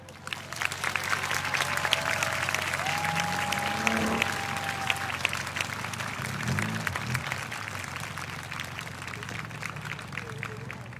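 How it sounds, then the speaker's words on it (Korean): Warm applause from a crowd at an outdoor prayer rally in Yeouido Park, Seoul, a steady dense clatter of clapping that fills the whole stretch and carries on evenly to the end. "뜨거운 박수로 맞이하겠습니다."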